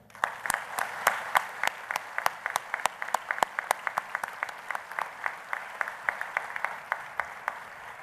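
Crisp, fairly evenly spaced claps ring out at an outdoor college commencement ceremony, sounding like a light, thin round of applause rather than a dense roar, moderately near and without speech.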